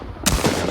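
A firecracker detonates in the video game Riot: Civil Unrest: one sharp, loud blast after a short quiet stretch, followed by a rumbling, echoing tail.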